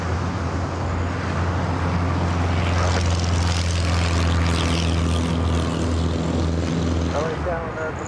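An airliner takes off from runway 25 right at LAX with a loud, sustained engine roar that fills the whole stretch, and radio voices come through alongside it.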